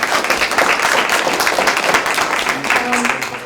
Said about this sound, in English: I hope you will all join me in a round of applause and thanks to our amazing panelists.